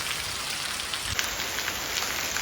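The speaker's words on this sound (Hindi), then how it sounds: "बारिश जो है वो कम होने का नाम नहीं ले रहा है।" Heavy rain pours down steadily in a dense, continuous hiss close by, with no voices over it.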